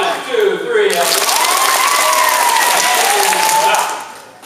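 Elementary school assembly children applauding on cue, loud steady clapping joined by excited young voices and cheers, tapering off at the close.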